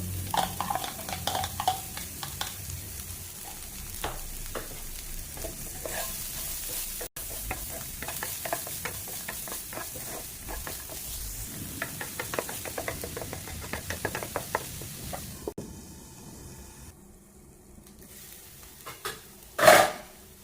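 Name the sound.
onion and garlic frying in oil in a pan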